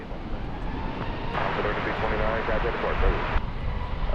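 American Airlines jet taking off from runway 18 at DFW Airport, a steady broadband engine roar with a radio-like voice speaking over part of it.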